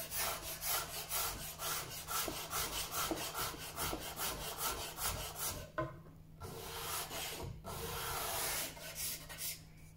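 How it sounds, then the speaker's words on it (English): A cabinet scraper shaves wood on a W. Watson camera, making rapid, rhythmic rasping strokes that repeat steadily and close up, with a couple of brief pauses between passes. "cabinet scraper needs sharpening. It'll do for now, it's only taking some bits"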